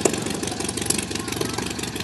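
Close behind an idling Stampe SV4C propeller biplane, the engine runs with a steady loud rhythmic throb and pulsing chug, filling the sound alone without voices.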